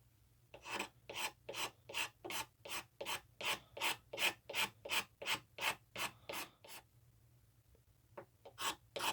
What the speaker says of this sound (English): I'll keep scraping.